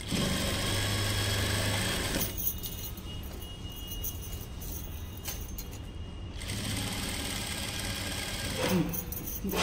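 A sewing machine runs a steady, buzzing stitch on a lehenga border, then pauses and starts again near the end, heard close with a continuous mechanical hum and no talk.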